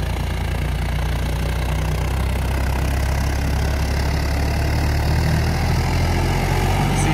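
John Deere 5075E tractor engine running in first gear, after a pump modification: a loud, steady low diesel rumble with an even throb, close by and unbroken, with no talking.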